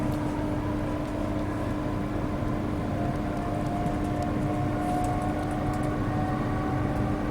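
A passenger train bound for Glasgow Queen Street High Level runs between stations, a steady interior rumble with a faint sustained hum and no talk.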